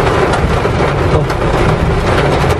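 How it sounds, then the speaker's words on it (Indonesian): Steady rain drumming on a 2016 Mitsubishi Triton Double Cabin Exceed manual pickup, heard from inside the cabin in traffic: a dense, continuous wash of broadband patter at a constant loud level, with no speech. "Suara ininya kedengaran sih, tembus ke dalam kabin suara hujannya."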